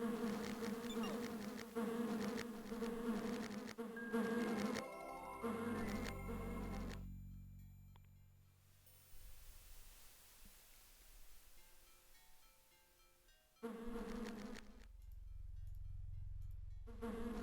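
Insects buzz all around a cave level of the Lands of Lore: The Throne of Chaos video game, the drone swelling and fading across the scene over a steady background, with brief louder bursts near the start and end.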